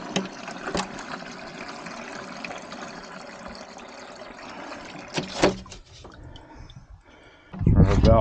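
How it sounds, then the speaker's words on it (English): Water running through an outdoor water line kept flowing in freezing weather makes a steady trickling, splashing wash that goes on continuously, with a louder gush near the end. "we'll keep the water flowing, and it is flowing just like we wanted it to."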